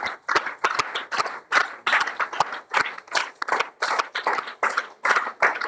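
A church congregation claps in quick repeated bursts, loud and close, steady rhythmic handclaps filling the space with no speech over them.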